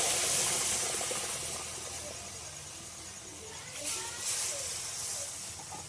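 Hot milk poured into a pan of roasted semolina, a loud hissing sizzle at first that gradually settles into softer bubbling with a few brief flares, heard up close.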